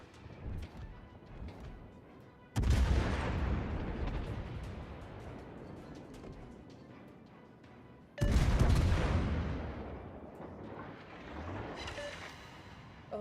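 Naval artillery fire in the World of Warships video game: two heavy, booming salvos several seconds apart, each a loud blast trailing into a long rumbling decay over continuous game background noise.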